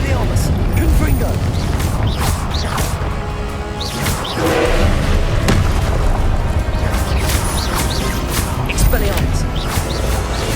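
Confringo blasting spell explosions in Hogwarts Legacy, repeated booming bursts and crashes amid dense continuous combat noise with shouted spell incantations over them.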